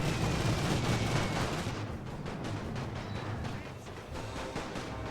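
Artillery fire in The Great War video game, a dense rumbling barrage that is loud at first and then eases into a steadier, lower din with scattered distant thuds.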